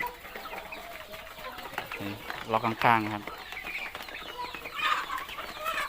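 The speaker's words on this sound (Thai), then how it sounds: "อันนี้เป็น ไก่ประมาณ สองเดือนถึงสามเดือน" Young chickens about two to three months old cluck repeatedly at a farm, a few short bursts of clucking in the middle over a low background, with someone speaking nearby.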